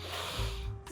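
A person sniffs in sharply through the nose, one short close breathy intake lasting under a second.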